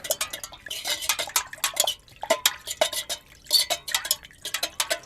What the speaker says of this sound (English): I'll just grab some type of cooking implement and start mixing it up in here